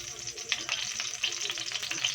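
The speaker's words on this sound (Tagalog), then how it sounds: "Igigisa natin sa kawali." Close, continuous sizzling and crackling of vegetables sautéing in a little oil in a pan, with occasional scraping and stirring sounds.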